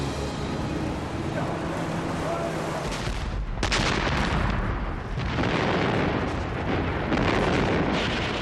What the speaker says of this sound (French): Mais les canons allemands sont là.